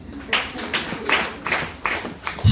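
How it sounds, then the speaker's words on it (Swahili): A church congregation at a morning service claps in rhythm, roughly six spaced claps landing close and clear over a quiet room. "Nipigieni makofi."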